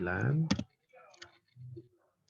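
Someone types on a computer keyboard while entering data into a Microsoft Excel spreadsheet. A few soft, scattered key clicks come between and after brief bits of speech, and the room is otherwise quiet.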